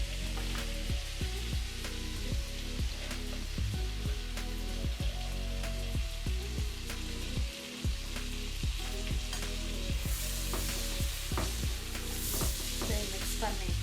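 Onions frying in a pan for a creamy salmon dish give a continuous quiet sizzle broken by regular spatula scrapes and taps, close, with no talk.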